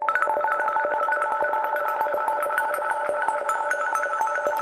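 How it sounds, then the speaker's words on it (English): Bright arpeggiated sine-wave plucks from an Ableton Operator synth in a dubstep track repeat in a rapid, steady pattern, the arpeggio rate automated to speed up and slow down, clear and upfront with no voices. "Automated that up and down, arpeggiating faster and slower."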